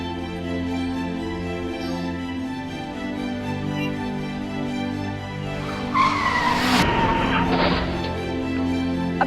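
A car brakes hard and its tires squeal in a loud skid to a stop, a sudden burst partway through that cuts across sustained background music.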